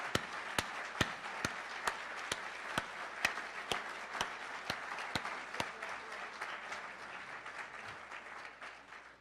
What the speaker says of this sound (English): So a big round of applause for Claire.